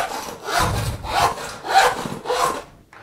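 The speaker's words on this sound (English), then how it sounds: "you're sawing square across a wider piece of stock" Hand saw cutting square across thin plywood scrap: four rhythmic rasping strokes, close and steady, each a scratchy wooden push or pull with short pauses between.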